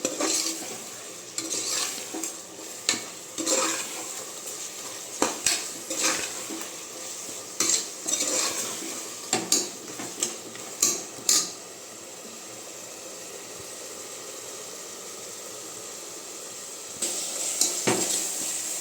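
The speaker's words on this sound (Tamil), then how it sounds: "இந்த மசாலாலாம் ஒரு ரெண்டு நிமிஷம் நல்லா வெந்து வரட்டும்" Masala with rock salt fries in oil for chicken biryani, a steady close sizzle broken by repeated scrapes and clinks of a spoon stirring against the pan, busier early on and settling into an even hiss toward the end.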